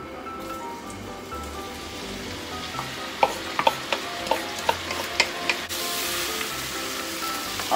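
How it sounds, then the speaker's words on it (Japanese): Steady oil sizzle as vegetables stir-fry in a pot, with a few sharp clicks and clatters midway, then the frying grows louder and brighter near the end. "鍋に、油をひいて野菜を炒めていきます"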